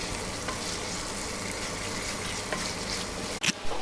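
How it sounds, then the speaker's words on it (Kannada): Garlic and onion fry in a pan for a momos chutney, giving a steady close sizzle with light stirring and a brief clatter near the end, without any voices. "ಇವಾಗ ಇದನ್ನು ಫ್ರೈ ಮಾಡ್ಕೊಳ್ಳೋಣ ಗೈಸ್ ನೀಟಾಗಿ"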